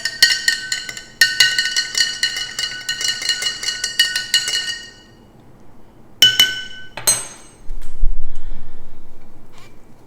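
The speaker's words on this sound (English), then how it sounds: "Give it a good stir." A spoon clinks rapidly against the sides of a glass jar while yogurt is stirred, a dense run of bright ringing taps, then a pause, a few final clinks and a dull thud.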